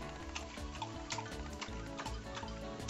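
A pet drinking water, lapping in a steady rhythmic series of small wet splashes over a low background hum, close by and with no one talking.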